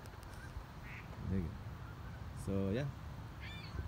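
A few honks from geese on a small lake in the early morning ring out in short bursts, with a brief spoken remark in between over faint outdoor background noise.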